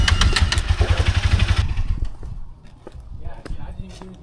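Honda CBR motorcycle engine runs loud and rough up close, then abruptly dies, leaving quieter ambient noise with faint scattered clatter.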